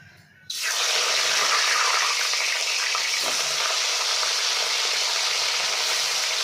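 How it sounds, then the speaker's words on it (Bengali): Pieces of rohu fish dropped into hot mustard oil in a pan burst into a loud, steady sizzle that starts abruptly and keeps hissing close by without letup. "ভালোই তেলটা গরম হয়ে গেছে এবার আমি একটা একটা করে মাছ ছেড়ে দেবো"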